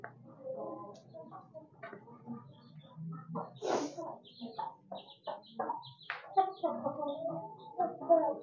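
An Aseel hen clucks near its eggs: a run of soft, irregular clucks and short calls over several seconds, close and fairly quiet, with no talking.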